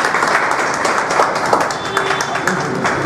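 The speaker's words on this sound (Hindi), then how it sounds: "जोरदार ताली रानू के लिए" Audience applause at a public award and honouring ceremony, as the next guest is called to the stage; steady, dense clapping fills the short stretch, with faint voices mixed in beneath.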